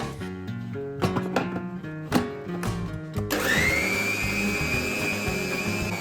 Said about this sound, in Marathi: थोडंसं आपण मिक्सरला फिरवून घेतलं